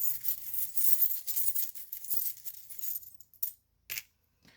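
Small metal fortune-telling charms shaken together in a continuous jingling rattle, then a few separate clinks and a final drop as they fall and settle, close and bright with no talking.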